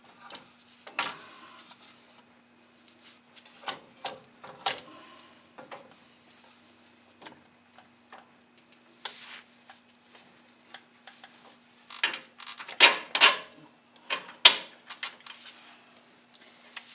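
Tightening a bolt on a Bilstein 5100 strut while fitting it into a third-generation Toyota Tacoma: scattered ratchet clicks and metallic ticks, quiet at first, then denser, louder bursts near the end, over a steady low hum.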